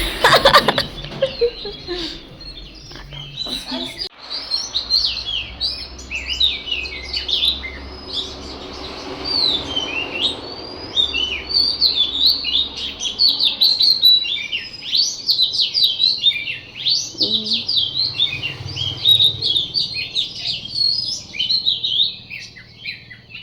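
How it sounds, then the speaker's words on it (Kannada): A dense chorus of birds chirps and sings outdoors in Wayanad, Kerala, with overlapping tweets continuing throughout at moderate loudness after a brief handling noise at the start. "ಫುಲ್ ಬರ್ಡ್ಸ್ ಎಲ್ಲ ಸೌಂಡ್ ಮಾಡ್ತಿದೆ ಸೊ ಕೇಳಿಸ್ತೀನಿ ರೀ ಸೌಂಡ್"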